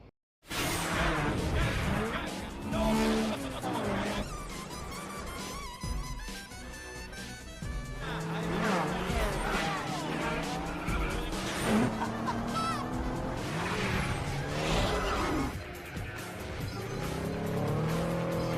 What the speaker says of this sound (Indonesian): Namun mobil polisi itu pun ditabrak-tabrakin dan semuanya dapat keluar dari kepungan itu.